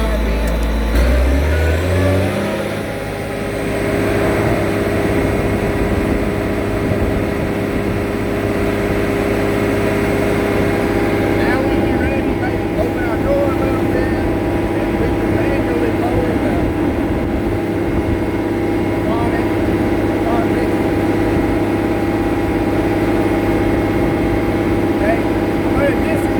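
A Caterpillar RM300 rotary mixer engine spins up at the start, then holds a loud, steady, close high-RPM drone with a constant hum throughout.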